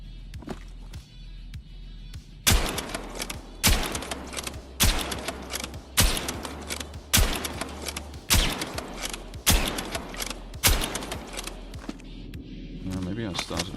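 Gunfire from a weapon in the video game Battlefield 6: about eight sharp, loud single shots spaced roughly a second apart, each ringing out briefly, with soft mechanical clicks between.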